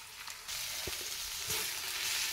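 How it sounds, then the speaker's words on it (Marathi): Roasted eggplant tipped into a pan of fried onion, tomato, chilli paste and turmeric over a rural wood-fired stove, with a soft thud, a surge of sizzling and scraping stirs under an ongoing hiss. "आता याच्यामध्ये आपण हे भाजून घेतलेले वांगे टाकूया."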